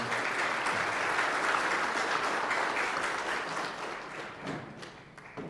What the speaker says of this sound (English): please give Kane Farabaugh a round of applause